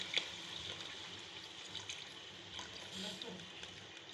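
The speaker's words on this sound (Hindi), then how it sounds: "पानी शामिल कर रहे हैं इसमें हम, एक छोटा जग।" Water is poured from a small jug into a pot of meat for a turnip and beef stew, a faint continuous trickle close by with a soft splash at the start.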